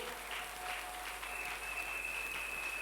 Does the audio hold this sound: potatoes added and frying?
no